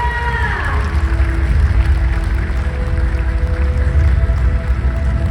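A crowd claps lively at a company's 75th anniversary celebration, a dense, continuous roar of hands with faint cheering over a heavy low rumble of the hall's sound system.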